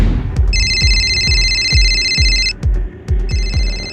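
A telephone bell rings loud and close in repeated electronic trills, broken by short gaps, over a steady thudding background beat and with no speech.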